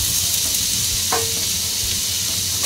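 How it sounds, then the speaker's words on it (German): Red onions sautéing in a pan, a steady broad sizzle and frying hiss throughout with a brief stir or scrape near the middle; close and continuous, no voices. "ich dünste die Zwiebelchen an"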